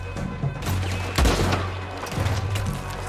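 Gunfire in the Western video game Red Dead Redemption, a close heavy blast near the middle, with scattered shots and rumbling battle noise around it and no talk.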